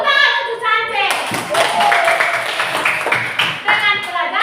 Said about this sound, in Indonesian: tepuk tangan untuk Sanchez.